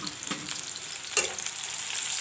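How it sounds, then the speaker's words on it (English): Two medium chopped onions and a few bay leaves fry in a pan for a banana kofta curry, a constant close sizzle punctuated by occasional spatula scrapes and knocks, with no speech. "let the onions fry a bit"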